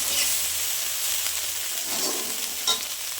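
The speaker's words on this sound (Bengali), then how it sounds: "অলরেডি আমি মাছ ভাজাগুলো বসিয়ে দিয়েছি" Small fish frying in oil in a pan, a steady close hissing sizzle with a brief louder spit near the end.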